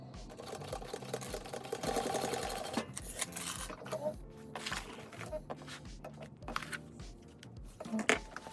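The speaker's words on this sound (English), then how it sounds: "And now I'm going to sew this at the seam allowance." A sewing machine stitching the seam of a handbag runs in a rapid mechanical chatter with brief pauses and restarts, close and steady.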